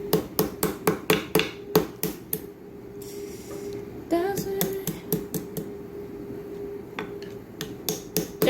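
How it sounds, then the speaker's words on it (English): Roasted ingredient for Nigerian white soup (ofe nsala) being pounded, a steady run of sharp, loud, close thuds in quick rhythm, pausing briefly midway before the beating resumes with some scraping. "I'm going to be peeling out the skin right now and pound it"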